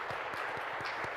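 A women-in-industry summit audience applauds, with faint, steady, rhythmic clapping that continues without a break through the short stretch.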